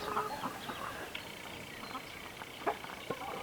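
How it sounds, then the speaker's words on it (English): Hens cluck in short, scattered bursts against a busy farmyard background, with a few sharper calls standing out near the end. "But I would imagine that little hen right there didn't want anything to do with Nene."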